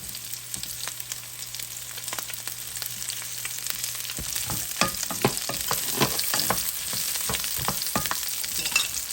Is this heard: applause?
no